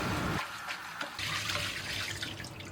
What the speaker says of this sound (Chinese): 切好过后，直接用流水给它淘洗2遍就可以了。